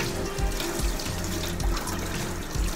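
Steady shower water pours and splatters in a bathroom while hair is washed, a constant close rushing spray with faint rhythmic thumps underneath.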